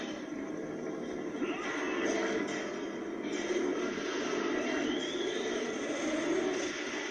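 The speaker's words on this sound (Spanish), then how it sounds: "Oh, es el helicóptero de los malos." An enemy helicopter in the video game Gears of War produces a continuous, steady rotor-and-engine roar that fills the whole stretch without letting up.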